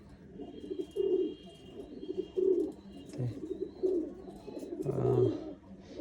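Pigeons coo repeatedly in low, throaty bursts, several overlapping calls at a steady rhythm, with faint chirps and background noise between them.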